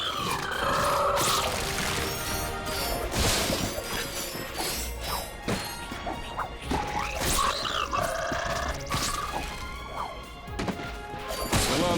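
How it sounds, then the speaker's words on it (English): Crates being smashed in the Ratchet & Clank video game on Planet Veldin: repeated crunching, shattering breaks scattered through a dense, busy game soundscape, loud and close. "Look at him smashing crates."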